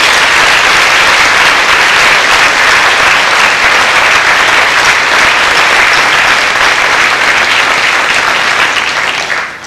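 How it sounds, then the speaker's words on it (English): Parents at a middle school awards banquet applaud the students, a loud, dense wall of clapping from a large crowd that carries on steadily and tapers only at the very end. "Parents, let's give the students a nice round of applause."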